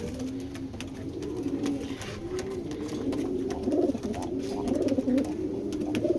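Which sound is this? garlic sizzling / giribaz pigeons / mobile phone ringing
giribaz pigeons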